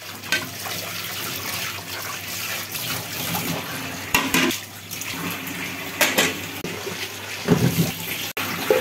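Plates and pans are washed at a kitchen sink after cooking, with a tap running steadily throughout and occasional louder splashes and knocks of dishes.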